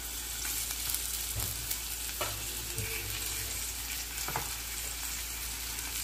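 Brinjal pieces fry in a pan with a steady, even sizzle and occasional stirring scrapes, fairly quiet throughout with no talking.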